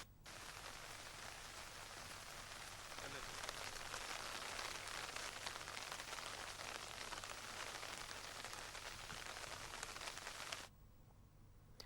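Heavy monsoon rain pours down in Sukma, Chhattisgarh, a dense, even hiss of water striking surfaces that holds steady and then cuts off abruptly near the end.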